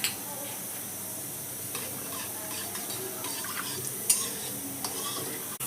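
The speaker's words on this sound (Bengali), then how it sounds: "দেখুন জিরে আর তেজপাতাটা আমার খুব ভালো করে ভাজা হয়ে গেছে।" Cumin seeds and bay leaves fry in about 1.5 tablespoons of hot oil, giving a faint, steady sizzle with a few light clinks of a utensil and no talking.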